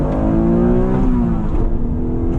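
A 1996 Acura NSX sports car accelerates on the road, its engine droning loud and close with a steady rising tone throughout, no voices.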